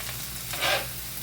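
Beef sizzles while frying in a foil pan for homemade hibachi, a steady close hiss that rises briefly as the meat is stirred, with no talk.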